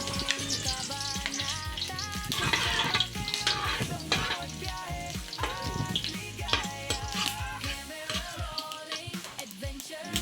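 Garlic sautéing in a hot pan for a home-cooked mussel dinner, a steady close sizzle and crackle with scattered clinks of the utensil against the pan, no talking.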